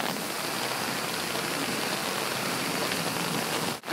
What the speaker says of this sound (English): I'm walking in the hail and the nasty rain